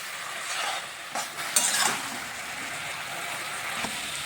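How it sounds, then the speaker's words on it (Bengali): Potatoes frying in a pan with red spinach, a soft steady sizzle with a few stirring scrapes and clinks, fairly quiet and close, no talking. "ভালো করে একটু ভাজা করে নিচ্ছি।"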